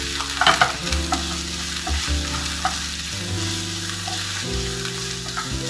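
Sliced onion, with curry leaves, sizzles and fries in oil in a pan for a Kerala coconut fish curry, a loud continuous crackle with occasional stirring scrapes and no talk.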